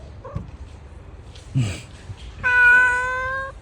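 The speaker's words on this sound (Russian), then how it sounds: "Ну, старый кот, но очень сильный." An old cat, a tough neighborhood tomcat, lets out a few short sounds, then a long, clear, loud meow up close.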